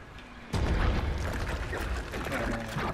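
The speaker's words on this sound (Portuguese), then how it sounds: "Vai, granada!" A grenade goes off in Resident Evil 3 Remake: one sudden low boom followed by a sustained rumbling roar that trails off, heard up close with some voice mixed in.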